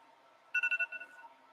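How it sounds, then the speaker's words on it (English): A mobile phone gives a short electronic ring in a welding workshop, a quick burst of four pulsed tones and then a fading echo over quiet room noise. "Let me turn my phone on silent."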